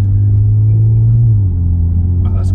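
A Kia Stinger pulls away under steady acceleration in ordinary road driving, its deep, continuous engine rumble heard from inside the cabin, loud and even, with no one talking.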